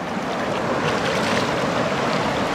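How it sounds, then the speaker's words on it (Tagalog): A strong river current rushes over rocks at a campsite in Mayantoc, Tarlac, a dense, steady roar of churning water heard close and continuous, with no talk. "Lakas ng agos."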